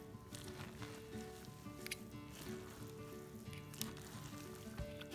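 Shredded cabbage coleslaw with carrot and Marie's coleslaw dressing is stirred and tossed in a bowl, making a continuous wet, crackly rustle with occasional sharper scrapes throughout.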